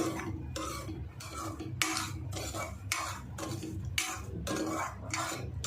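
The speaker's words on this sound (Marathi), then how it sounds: "इकडे मी एकीकडे तांदूळ भाजते" Barnyard millet rice being dry-roasted in a pan over a low flame, with steady scraping and stirring strokes in an uneven rhythm, close and fairly soft, with a faint sizzle underneath and no talking.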